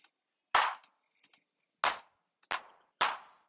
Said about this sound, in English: you can create some surrounded claps like that